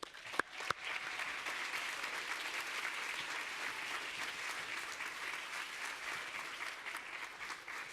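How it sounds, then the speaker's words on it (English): Sustained audience applause at a Teens Take Charge event at the Schomburg Center as adult panelists come on stage, a full steady crowd clapping after a couple of sharp knocks at the start. "Give them a round of applause."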